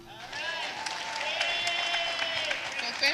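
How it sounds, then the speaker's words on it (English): An audience at a community celebration event applauds, with steady clapping running for about three seconds beneath voices and cheering. "Another big round of applause for the young geniuses"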